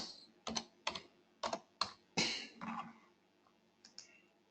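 Several sharp, quiet computer mouse clicks at an irregular pace, close and alone in a quiet room.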